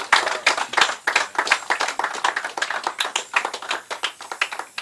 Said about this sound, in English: So a quick round of applause for Mr.